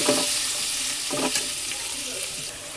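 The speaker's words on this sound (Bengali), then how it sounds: "মশলাটা দিয়ে ভালো করে কষাবো।" Spice paste of ginger, tomato and green chilli frying in a pan for aloo dum, with steady sizzling and a few distinct bursts of scraping and stirring, close and alone.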